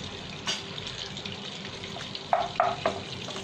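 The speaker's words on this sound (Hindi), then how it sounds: "जब तेल गर्म हो जाएगा तो हम उसमें डालेंगे 1 छोटा चम्मच जीरा और 1 तेजपत्ता" Cumin seeds and a bay leaf sizzle in hot oil in a pan for paneer butter masala, a steady, moderately loud hiss with a few sharper crackling bursts near the end and no talking.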